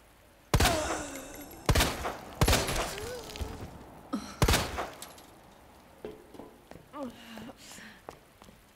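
Several loud gunshots in Resident Evil 2, Claire B walkthrough, crack out at irregular intervals, each followed by a short decaying tail, with a voice talking between shots.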